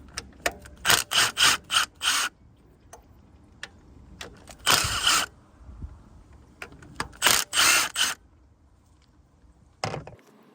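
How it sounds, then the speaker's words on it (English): Power tool removing three screws from the thermostat housing of a 2014-2019 GMC Sierra or Chevy Silverado 1500: several loud, close bursts of whirring, grouped in short runs with pauses between. "next we're gonna remove these 3 screws."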